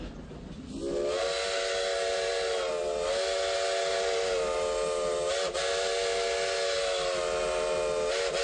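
A train whistle blows long and loud over the steady rumble of a moving train, continuing almost without pause.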